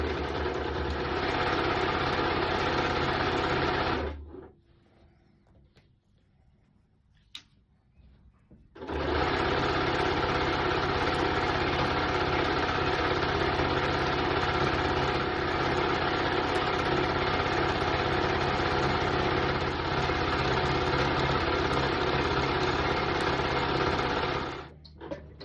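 A sewing machine runs steadily at high speed while it stitches around a red poppy appliqué. Its whirring drone stops for a few seconds, then picks up again and runs on without a break.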